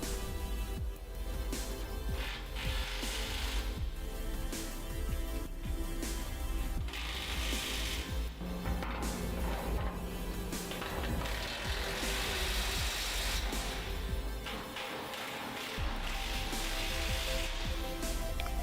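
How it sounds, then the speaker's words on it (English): Bolts tightened on a steel dust collector structure with a ratchet, steady repeated clicking and clattering at close range over a constant background drone, with no talking. "Once all the bolts are in place, you can begin tightening the structure."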